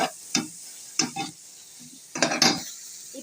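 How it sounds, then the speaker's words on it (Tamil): Onions sautéing in a pan for mushroom biryani, heard as intermittent bursts of sizzling and stirring scrapes separated by quiet gaps, close and moderately loud. "இப்போ நம்ம வெங்காயத்தை நல்லா வதக்கிக்கலாம்."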